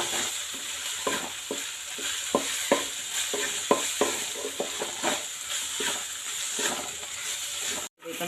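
Stirring and sautéing in a pan for a Kerala dish, a continuous soft sizzle with regular scraping strokes of a spoon at a steady rhythm, close and moderately loud, ending in a brief silence.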